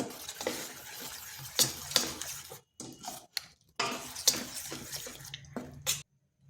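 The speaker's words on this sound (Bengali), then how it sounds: "এরপর এখানে দিয়ে দিচ্ছি 1 চিমটে বেকিং সোডা, আর ভালোভাবে মিশিয়ে নিচ্ছি।" A thick wheat flour batter with a pinch of baking soda is stirred in a bowl, giving uneven wet sloshing and clinking strokes with brief pauses, close and fairly quiet.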